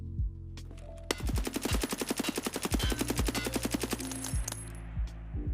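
Rapid automatic bursts from a lightly recoiling 74U rifle in Escape From Tarkov crack close and loud, with a long sustained string in the middle and a few separate single shots before and after.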